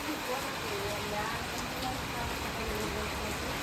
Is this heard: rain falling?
yes